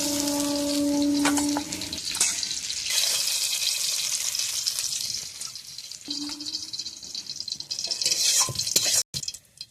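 Fish frying in hot oil in a wok, with a steady loud sizzle and crackle running throughout, broken by brief clinks and a couple of short tonal hums near the start and middle.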